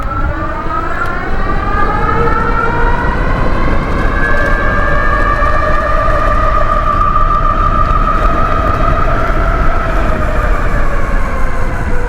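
A Citizen electric bike motor at full power on a trail, a loud continuous rising whine with several harmonic layers climbing in pitch over rough wind and road rumble, no talking.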